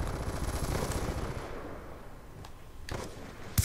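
Rapid automatic gunfire in Call of Duty: Black Ops 2 multiplayer bot match, a dense burst of shots for the first moment, then quieter gaps with a couple of sharp isolated shots near the end.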